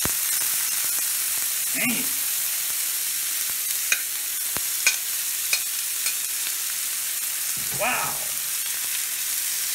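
Chorizo and onion frying on an electric skillet, a steady bright sizzle with occasional pops and crackles throughout, two brief exclamations from a voice over it.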